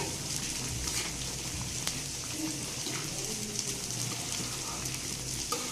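Fried potatoes and carrots tipped into a pot of pulao hiss and sizzle steadily in hot oil, with a soft continuous crackle and occasional small pops, close and moderately quiet.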